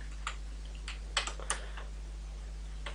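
Light, sparse taps on a computer keyboard sound as a few soft clicks at an uneven pace over a steady low hum, with nobody talking.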